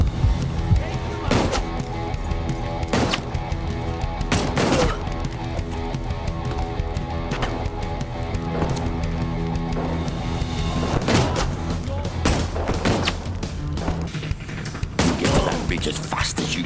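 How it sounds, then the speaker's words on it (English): Pistol fire in the VR game Peaky Blinders: The King's Ransom during an action scene: sharp shots at irregular intervals, some in quick pairs, over a steady bed of game music. "You're gonna shoot with a pistol"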